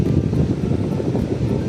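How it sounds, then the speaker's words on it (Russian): Wind blows steadily at an outdoor picnic area, a constant low rumbling buffet on the microphone with no distinct events and no voices. "Правда, есть ветер, но ничего."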